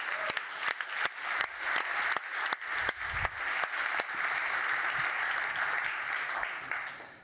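An audience at a startup demo day bursts into steady applause, many hands clapping together at close range, with a few louder individual claps standing out early on before the sound settles into a dense, even roar.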